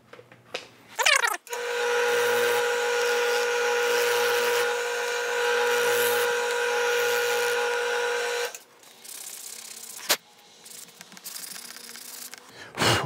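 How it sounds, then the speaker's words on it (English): 150 grit sandpaper rubbed over leather to remove glue, a loud continuous abrasive scrubbing for about seven seconds, framed by brief handling knocks and a sharp tap near the end. "sand this down a little bit. You can use 150 grit sandpaper, 150 grit."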